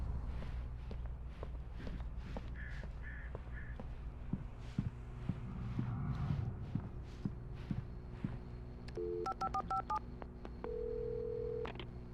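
Footsteps shuffle and thud in the video game Alan Wake Remastered, then a quick series of telephone keypad tones beeps out, ending in a steady tone, with a low ambient hum throughout.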